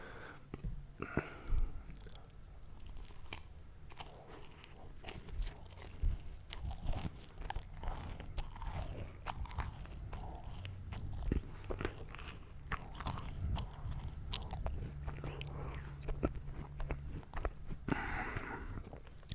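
Close-miked biting and chewing of a crunchy pastry cake, with repeated crisp crunches and steady mastication noises at a soft, intimate level and no talking.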